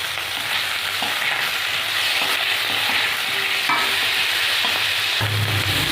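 Onions fry in a pan as tomatoes go in, giving a loud, steady close sizzle with scraping and stirring noises. No one speaks.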